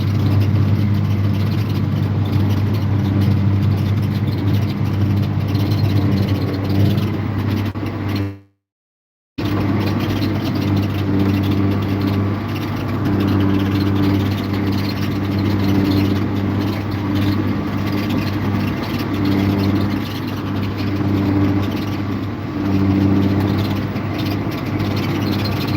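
A tractor with a cab pulls a chisel plow through a field, its engine droning loudly and steadily with a constant low hum, broken by a single brief cut to silence partway through.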